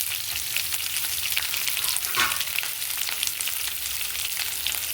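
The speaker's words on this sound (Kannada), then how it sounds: "ಈರುಳ್ಳಿ ಹಾಕಿ ಫ್ರೈ ಮಾಡ್ಕೊಳ್ಳೋಣ." Onions and green chillies fry in a pan with chana dal for a potato sagu, a steady close sizzle with a soft stirring scrape near the middle, no voices.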